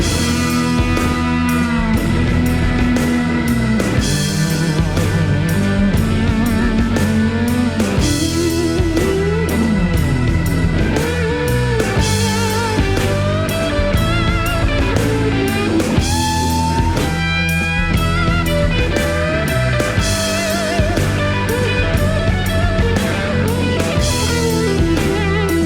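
An electric guitar runs through a handmade germanium fuzz pedal built with new old stock parts, giving dense, saturated riffs and chords that play continuously and loudly for the whole stretch.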